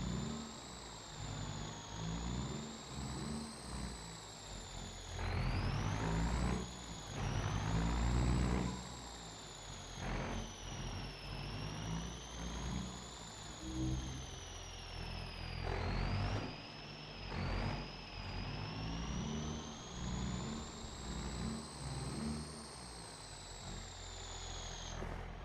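A truck reverses with a trailer in Farming Simulator 25 on a hay-baling farm, its steady mid-pitched engine droning throughout with a high whine that rises and falls, swelling into louder revs at several points.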